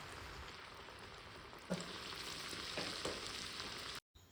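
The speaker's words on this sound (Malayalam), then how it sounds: "ബാക്കിയുള്ളത് ഇതുപോലെ തന്നെ ഫ്രൈ ചെയ്തെടുക്കാം" Carrot finger snacks deep-frying in hot oil, giving a soft, steady, even sizzle throughout, fairly quiet and close, with a couple of faint bumps before it cuts out abruptly near the end.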